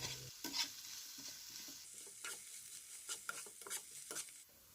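Onion, green chilli and tomato for a Kerala-style prawn roast fry in a pan, with a soft steady sizzle broken by repeated close, scraping stirs of a spoon through the mixture.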